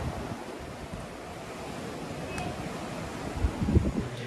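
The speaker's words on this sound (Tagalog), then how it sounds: "dinig na dinig mo talaga ang alon ng dagat." Sea waves wash onto the shore at 3J's Beach Resort, a steady broadband roar with gusty wind on the microphone and a few louder surges near the end; no one speaks.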